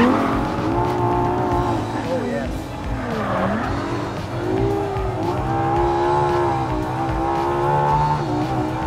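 A supercar engine in third gear on a race track holds a high, strained note that rises and dips, with tire squeal under it. Someone speaks over the engine throughout.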